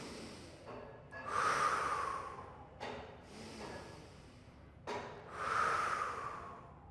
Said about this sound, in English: I'm going to take 2 big deep breaths